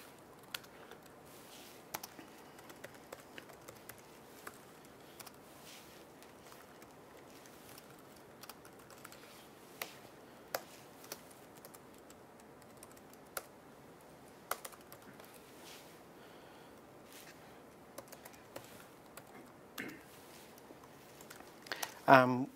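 A test stored procedure being typed on a computer keyboard gives sparse, scattered key taps and clicks at low level over a quiet room, with a brief louder rustle near the end.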